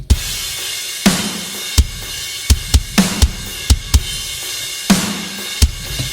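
Punchy Superior Drummer 3 software drum kit hits ring out one at a time, deep resonant toms mixed with sharp cracks and booming kicks, spaced irregularly with full, roomy decay and no voices.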